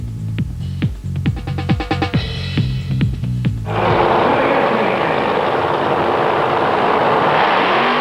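Top Methanol drag racing car making a quarter-mile run at a 1999 European drag racing event in Alastaro, Finland: a loud, close engine note with revving bursts that swells into a sustained, steady roar for the rest of the run.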